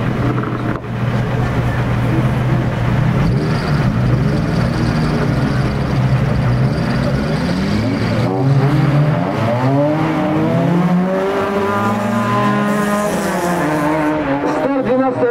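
Race cars starting a heat at the Russkaya Zima 2022 winter auto show in Slobodskoy, with engines roaring and revving steadily as they pull away under faint announcer talk.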